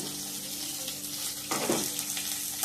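Chopped onions frying in a pan, a steady close sizzle that swells briefly when they are stirred near the end.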